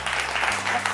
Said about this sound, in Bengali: a জোরে হাততালি হয়ে যাক।